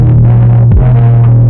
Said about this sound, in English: Then I put this distortion plugin on it.